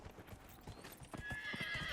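Horse hooves in a video game clip-clop steadily as the horse is ridden, a quick rhythmic beat of hoofsteps that ends in a whinny, at moderate loudness with no talking.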